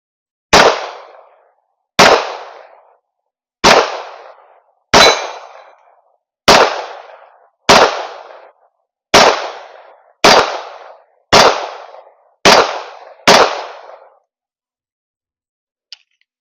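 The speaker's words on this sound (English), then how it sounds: "let's go ahead and let's just do some shooting with this thing. Let's try that little plate right there." Springfield Echelon 4-inch pistol fired outdoors at a steel plate: ten sharp, loud shots at a steady pace about one and a half seconds apart, each with a short ringing decay, then silence.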